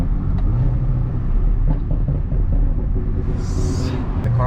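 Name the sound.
tuned BMW 335is engine running, catless exhaust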